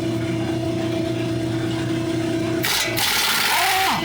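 On a 2007-2013 R56 Mini Cooper S, a pneumatic impact wrench bursts into a loud, harsh whirring rattle on the lower strut bolt after a steady droning hum, close up and alone.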